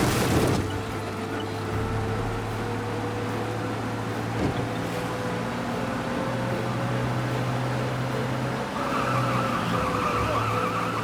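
A car engine drones steadily at speed with tires squealing and skidding, loud and continuous, in a game-like mix from Mafia 1 remake.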